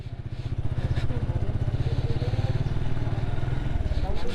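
A motorcycle putters along at low speed around an old zamindar house in Narayanganj, its engine throbbing in a fast, even pulse close by, with the rider's voice heard over it.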